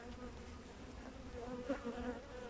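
Honeybees at an open hive give off a soft, steady drone, close but quiet, with no voices.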